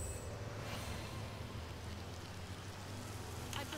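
Rain spell cast in the video game Divinity: Original Sin produces a steady, even hiss of falling rain that runs the whole stretch with no pauses.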